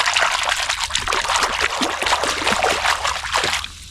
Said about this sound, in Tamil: நான் தண்ணிக்குள்ள தண்ணிக்குள்ள அலசிக்கிறேன்